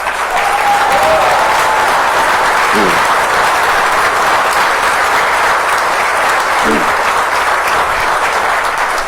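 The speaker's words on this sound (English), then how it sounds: "give a round of applause" Dense, even applause from a room of attendees at a downtown partnership's annual meeting, loud and continuous throughout with a brief faint tone near the start.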